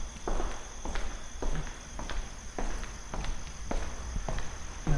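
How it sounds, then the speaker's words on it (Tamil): Rapid footsteps of someone running, a series of sharp thuds spaced about a second apart over a steady hiss of insects or crickets, moderately close and with no talk. "யாரோ ஓடி வர மாதிரியே கேட்குதுடா"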